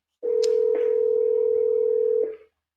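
A single steady electronic ringing tone from call center dialer software sounds loud and unbroken for about two seconds, then cuts off, with no talk over it.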